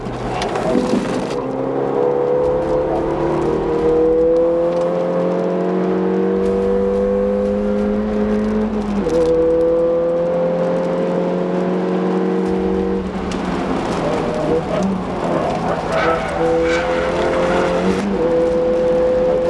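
A car laps the Castle Combe circuit during a brake test, its engine droning close and loud as it rises and falls through gear changes, easing off under braking and then accelerating again.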